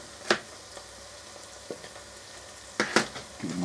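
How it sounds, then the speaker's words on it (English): Turkey stuffing sizzles in a pan under a steady low frying hiss, with several sharp scrapes and knocks of a spoon as it is stirred, with no voices. "Give it another stir."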